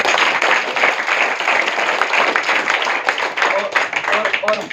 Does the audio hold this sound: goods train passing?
no